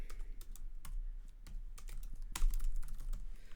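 Typing on a computer keyboard while coding, rapid irregular key clicks close to the microphone with a couple of louder keystrokes, steady and unaccompanied by talk.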